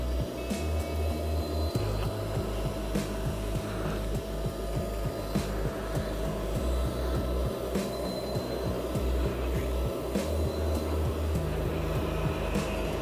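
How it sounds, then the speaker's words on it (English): Kärcher Puzzi 10/1 carpet extractor vacuuming water out of a carpet, a loud steady suction drone with repeated rhythmic clunks and scraping strokes as the nozzle is pulled back and forth, close up and without talk. "Now I'm just vacuuming, trying to get as much of the water out of the carpet as I can."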